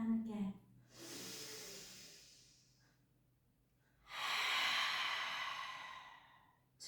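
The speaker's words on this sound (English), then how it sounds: "Really use your breath. Inhale. Out breath." Deep, slow breaths during a pilates exercise, two long airy exhalations close to the mic, the second louder and rushing, separated by a quieter inhale.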